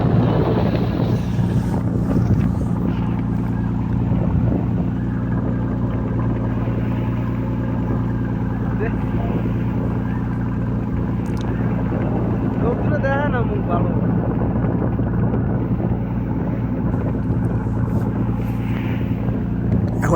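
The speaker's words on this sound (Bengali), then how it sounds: "একদম ট্রলার এগোচ্ছে" A fishing trawler ploughs through a rough, choppy sea, its engine a constant low drone under gusts of wind buffeting the microphone, with a voice speaking partway through.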